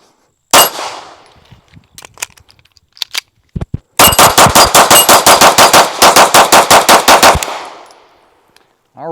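Springfield Armory Prodigy pistol fired at round steel targets outdoors: a few spaced shots with metallic pings, then a fast, loud, evenly paced string of about twenty shots.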